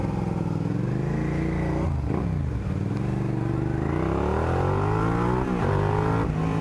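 A Suzuki SV motorcycle with a Delkevic aftermarket exhaust revs up and down with a deep, throaty exhaust rumble, loud and close, with no voices.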